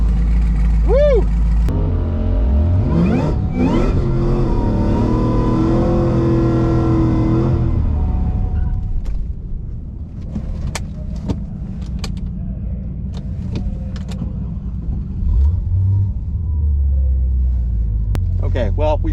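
A Cadillac CTS-V wagon's engine rumbles and revs loudly up close through a rising pull, then drops away to a rough idle and stall, with voices talking over the noise.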